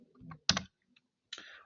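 A few separate keystrokes click on a computer keyboard, with short bursts spaced by silent gaps, fairly close and quiet, with no talking.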